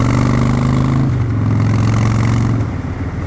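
A car engine idling with an uneven, sagging low drone that dips and falters as an intermittent fault makes it want to stall at a halt, heard steadily and close throughout.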